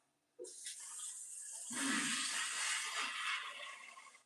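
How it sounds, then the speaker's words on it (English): Water from a kitchen tap gushes onto spinach being rinsed, starting abruptly and holding as a loud, steady rushing stream close by. "Let's get some of this spinach rinsed off."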